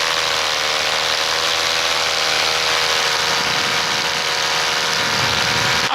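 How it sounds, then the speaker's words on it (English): A paramotor engine drones loudly and continuously in flight, a steady buzzing roar with slight rising and falling surges in pitch and strength, with no talking over it. "my engine is surging too"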